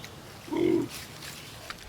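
A piglet on a homestead gives a single short, close grunt in a quiet outdoor setting, with faint rustling before and after.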